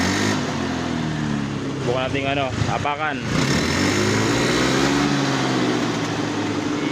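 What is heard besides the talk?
Honda Beat scooter engine revving after troubleshooting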